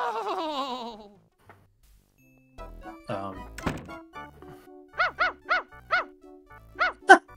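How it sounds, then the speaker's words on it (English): Loud dog barking in the King's Quest 7 video game comes as a series of five sharp, evenly spaced barks near the end, after a quieter stretch with other game sounds. "Loud barking"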